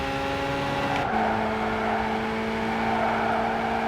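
A race car engine in the game Gran Turismo 5 drones steadily at high revs while chasing a Jaguar XJ220 for a slipstream. The engine note shifts once with a gear change, and there is a constant whir of wind and road noise.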